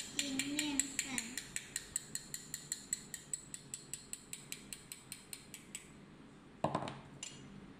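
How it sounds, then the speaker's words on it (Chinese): A whisk or utensil strikes a bowl in a steady, even rhythm while cheesecake batter is stirred together with whipping cream for a burnt cheesecake, about thirty close clinking beats, and a louder clatter near the end. "然后继续搅拌均匀"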